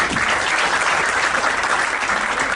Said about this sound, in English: please, a round of applause for Mr. Rasool Bharkwa